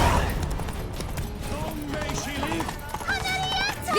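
Rapid clip-clop of galloping horse hooves in The Witcher 3: Blood and Wine, a steady, close rhythm running under almost constant character dialogue and other game sounds.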